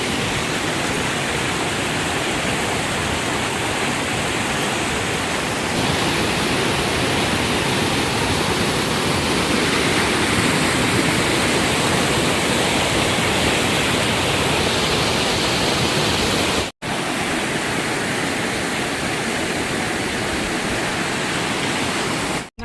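Several streams of water pour into a scenic waterfall, making a loud, continuous broadband rush that stays nearby and steady with no voices, broken only by a brief dropout near the end.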